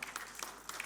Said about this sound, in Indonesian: Boleh kasih tepuk tangan yang keren banget ini buat teman-teman tim multimedia